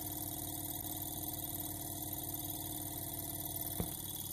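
A vintage telephone ringtone oscillator buzzes with a steady, even hum that does not let up, and a single sharp click lands near the end.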